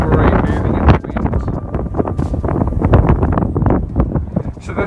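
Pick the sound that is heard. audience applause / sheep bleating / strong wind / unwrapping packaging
strong wind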